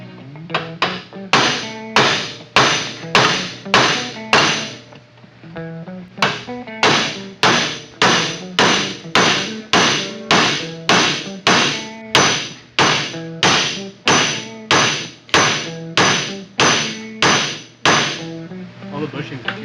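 A hammer strikes suspension parts on an older Honda Civic, a long run of loud, evenly paced metallic blows ringing out close by with almost no pause between them.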